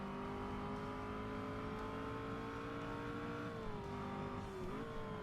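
Steady car engine drone while driving in Forza Motorsport, a sustained loud hum with a slight pitch dip and recovery near the end, with no talking.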